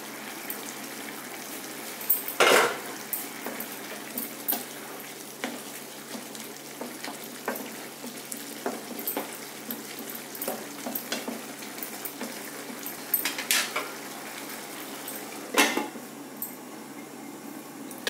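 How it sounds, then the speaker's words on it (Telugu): A cauliflower and pea curry bubbles and sizzles in a pot, a low steady cooking hiss broken by occasional sharp clinks and scrapes of a spoon against the metal. "భలే ఉడుకుతుంది కూర, మంచి ఫ్లేవర్ కూడా వస్తుంది"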